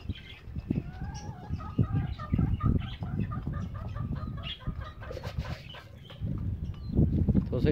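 Chickens and roosters cluck and chatter close by while pecking at scattered feed, with a busy, overlapping flock sound throughout.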